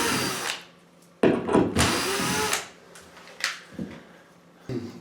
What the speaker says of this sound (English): Now we can remove these screws.